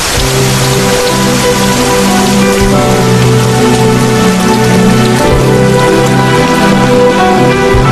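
Heavy rain pours down steadily and loudly, a dense continuous patter on surfaces with no voices.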